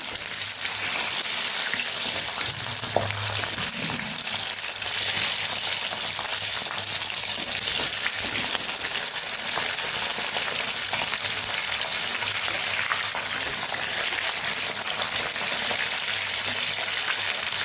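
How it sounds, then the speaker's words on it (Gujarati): Slit red chillies fry in a pan of hot oil for a Rajkot-style red chilli sambharo, giving a steady, dense sizzle and crackle that runs unbroken and fairly loud, with no voices. "મરચાને આપણે તળી લેવાના છે"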